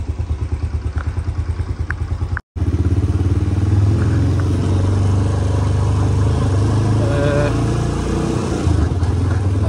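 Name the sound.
motorcycle engine, bike leaving for Cholistan desert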